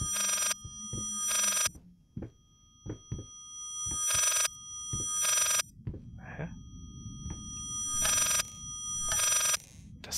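Repeated loud telephone rings from the horror video game Layers of Fear, five bursts at a steady spacing with short gaps, mixed with knocks, thuds and a low background rumble.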